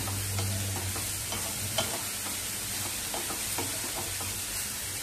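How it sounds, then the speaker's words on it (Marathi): Grated coconut and jaggery being sautéed in a pan, with a soft steady sizzle and repeated scrapes and taps of a spoon stirring throughout, close and moderately loud, no talking. "गूळ चांगला वितळेपर्यंत आपल्याला हे खोबरं चांगलं परतवून घ्यायचंय"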